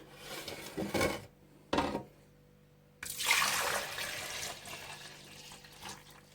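Water poured from a container into a jug while making pickled grapes, heard as splashing bursts, a short pause, then a longer, louder pour that trails off at close range.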